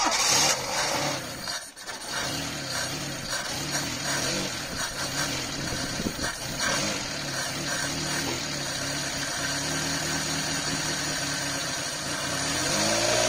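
A Toyota Corolla EE90 with a 2E engine, fitted with a performance ported and polished head, 266 cam and new valve springs, cranks and fires for its first start, then idles roughly and continuously up close with some revving.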